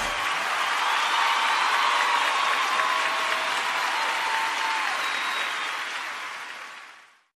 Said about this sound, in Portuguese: e aplaude de novo.